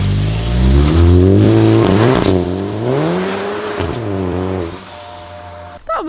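A Volkswagen Scirocco engine revs loudly and close by, rising and falling through several sweeping throttle blips before settling to a lower idle, with a short sharp knock near the end and no talking.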